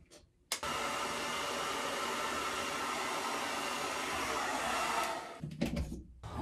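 Hair dryer blowing steadily on a freshly shaved head, a constant whooshing roar that starts abruptly, holds at close range for several seconds, then cuts off into handling noise.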